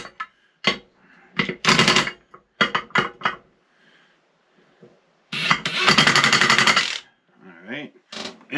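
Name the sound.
impact wrench on setting 1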